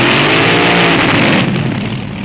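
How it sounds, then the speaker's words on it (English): A top fuel dragster launching off the line at a drag strip, a loud, harsh roar of raw engine power that fills the short moment and eases slightly toward the end. "can't get close enough to the ground-shaking bellow and scream of dragsters hot off the line"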